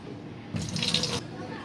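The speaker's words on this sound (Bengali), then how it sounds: "এটার মধ্যে পানি অ্যাড করে দিব" Water is poured into a pot of rice and lentils for khichuri, a short splashing gush lasting under a second against quiet room sound.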